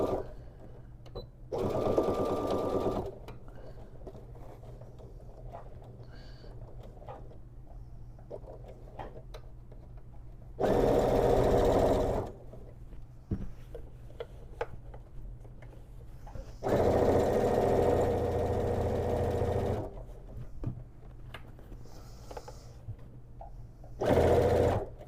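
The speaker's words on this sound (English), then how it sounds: "Right now we are sewing a lot faster, so my fabric is pulling a little bit." A sewing machine stitches fabric for a crossbody bag in four separate fast bursts of rapid mechanical whirring. Quiet handling sounds fill the gaps between bursts.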